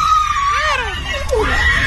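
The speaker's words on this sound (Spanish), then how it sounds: "el sonido de la gente gritando" A crowd of people screaming, heard in a Spanish-language radio morning talk show segment: shrill, wavering cries rising and falling over a steady loud background for about two seconds.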